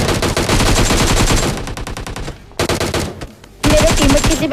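Rapid automatic gunfire bursts from a battle royale video game, dense rattling volleys with brief pauses between them, loud and close, then a sharp resumption of sustained firing.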